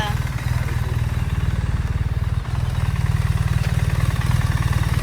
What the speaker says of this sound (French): On va faire un tour en moto.